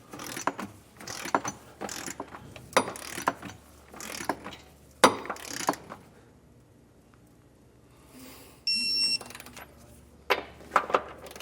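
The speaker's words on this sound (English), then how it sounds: "we can come back with our torque wrench and torque these down to the specifications listed in the instruction manual" A torque wrench tightening the bolts of a TowSmart round tube Class 3 trailer hitch receiver on a 2015 Dodge Durango, with bursts of close, sharp ratcheting clicks separated by brief pauses and a final metallic click, no talk.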